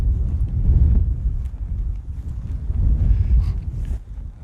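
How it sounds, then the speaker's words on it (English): Gusty wind buffets the microphone in open countryside near Dawlish on an overcast day, a loud continuous low rumble that swells and eases throughout, with no voices. "I'm just hoping this wind's going to die down."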